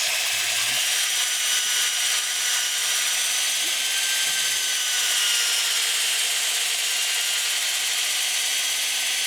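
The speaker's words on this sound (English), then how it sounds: "Keep the sander moving and in flowing arcs." A power sander works over a turned wooden bowl on the lathe, producing a continuous high, hissing abrasive whir at steady loudness with faint low knocks near the start.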